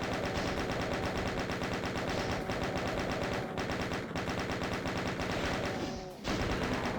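Chain gun in the video game DOOM firing in a sustained, rapid mechanical rattle of loud, close shots, with a brief break near the end before the burst resumes.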